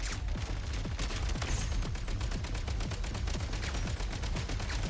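Shooting in a video game, a rapid, steady stream of sharp repeated shots like automatic fire, loud and continuous throughout, with no talk.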